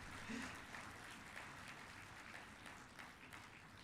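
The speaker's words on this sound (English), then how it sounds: "I think I need a clap." Applause from a conference audience at a national mediation event, a faint, even clapping that carries on steadily and tapers slightly toward the end.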